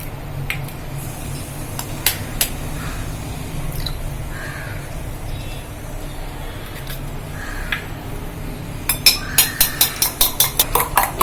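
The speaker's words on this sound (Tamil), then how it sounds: "2 முட்டையை நான் உடைச்சு நல்லா அடிச்சு இதுல கலக்க போறேன்ப்பா." Eggs beaten in a bowl while mutton chops are prepared: a long stretch of soft, faint kitchen rustle and scraping, then a quick run of about a dozen sharp, evenly spaced whisking clinks near the end.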